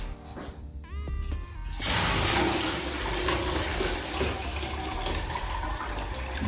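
Homemade sorrel drink being strained, with liquid pouring and splashing steadily at close range after a brief clink of utensils.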